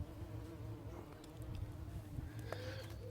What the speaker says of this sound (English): The bumblebees seem to be quite happy.